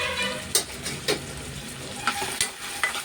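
Onions and chana dal fry in a pan with a loud, dense sizzle. Sharp stirring strokes scrape through it about every half second, and no one speaks.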